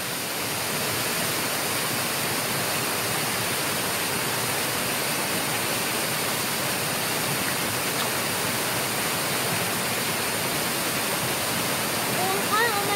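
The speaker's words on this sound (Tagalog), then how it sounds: "Little Hawaii Falls." Little Hawaii Falls on a Hong Kong hiking trail roars continuously, a steady broad rush of falling water that stays loud and unchanging throughout.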